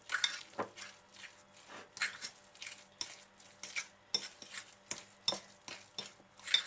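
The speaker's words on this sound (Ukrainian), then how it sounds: "І отак перемішаємо." A spoon scrapes and clinks against a bowl in repeated rhythmic strokes as jam is stirred in, close and clear, with no talking.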